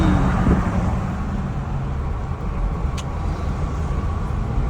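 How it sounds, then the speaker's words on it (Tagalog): A Nissan Navara pickup fitted with an HKS full exhaust rumbles steadily at close range, a deep, even engine drone with no voices over it. "Sound check, full exhaust. HKS"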